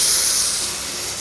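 A pressure washer sprays water onto fabric furniture, a steady bright hiss that fades slightly over a single short burst, with no talking.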